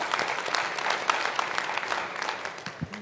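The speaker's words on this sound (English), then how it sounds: "give Heather another round of applause." An audience at a talk gives a round of applause, steady dense clapping that carries through and thins slightly at the end.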